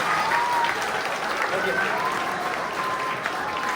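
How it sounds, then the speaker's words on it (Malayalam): An audience at a church Sunday school talent competition in the UK claps in steady, fairly loud applause that fills the whole moment, with a voice speaking over it. "അവർക്കൊരു കയ്യടി കൊടുത്തേ."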